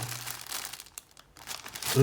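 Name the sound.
crinkling plastic bag packaging of a LEGO magazine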